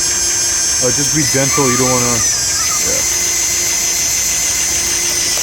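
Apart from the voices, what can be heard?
drill drilling out a rivet on a Ford Explorer license plate bracket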